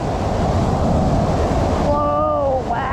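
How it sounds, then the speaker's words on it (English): Storm waves surge at a lake outfall, a loud continuous wash of water and wind, with a brief tonal whine rising over it near the end. "The waves, they're getting stronger."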